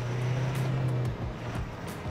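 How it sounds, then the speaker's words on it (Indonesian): A Toyota Hilux turbo diesel pickup drives along with a faint, steady whining tone over a low engine rumble and road noise, heard from inside the cab. "karena dia turbo diesel, suara turbonya tuh kedengeran banget sobat setir"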